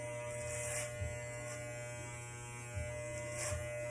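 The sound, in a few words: electric hair clippers with 1.5 guard cutting hair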